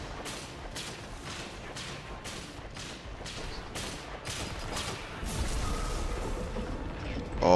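Rapid gunfire in the Destiny shooter game, a steady run of evenly spaced shots over a continuous rumble of battle, growing denser and louder near the end.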